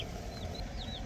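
Newly arrived meat chicken chicks give a few high, thin peeps over a steady, loud rushing hum from a heater.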